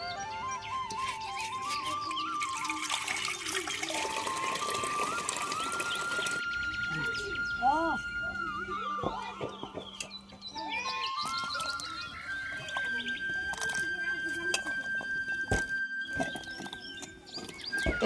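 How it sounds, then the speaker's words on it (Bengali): A clay cooking pot is rinsed and scrubbed with water, with sloshing, splashing and scraping of hands against the earthenware, close up and busy throughout with no voice over it. "আজকে আবারও আমার এই মাটির পাতিলটায় রান্না করব, তাই মাটির পাতিলটা প্রথমে ধুয়ে পরিষ্কার করে নিচ্ছি।"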